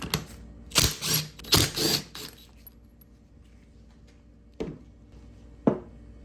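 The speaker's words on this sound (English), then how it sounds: "So we'll start by removing these studs here." Studs being removed from a power steering pump with a ratchet, giving two bursts of rapid mechanical clicking early on, then two sharp isolated metallic clicks, close and moderately loud with no talking.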